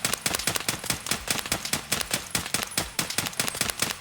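Rapid single-fire shots from an AK-74U rifle in a video game, a close, sharp string of evenly spaced cracks repeating about every quarter second without pause.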